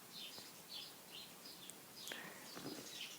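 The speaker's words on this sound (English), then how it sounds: "I'm just going to show you the sparrows." Sparrows chirp in a bush outdoors, repeated faint short tweets at a steady rhythm over a soft background hiss, fairly distant.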